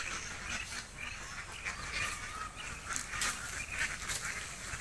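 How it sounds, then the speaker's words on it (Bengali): A flock of ducks quacks and honks continuously, many birds at once in an overlapping chorus, fairly quiet and a little distant. "এই দেখেন হাঁসের পাল"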